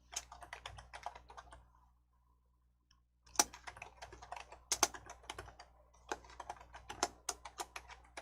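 Quick bursts of keystrokes on a computer keyboard, typed in short runs with a pause in the middle, close and fairly quiet, with no voices.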